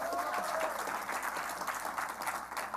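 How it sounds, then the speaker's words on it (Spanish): Church congregation applauding in a sustained wash of dense clapping, steady and fairly distant throughout, with a faint held tone running underneath. "Aplausos para ellos."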